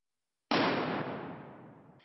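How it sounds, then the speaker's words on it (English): A small cannon fired as an acoustic test source inside Detroit's Symphony Orchestra Hall, one sharp loud blast followed by a long, slowly fading reverberant decay filling the empty concert hall. "And the third one, we use a small cannon."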